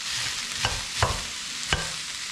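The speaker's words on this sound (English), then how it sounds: "that sizzle." Continuous hiss of cauliflower sizzling in a hot pan, with three soft clicks of utensils stirring at intervals; no voices.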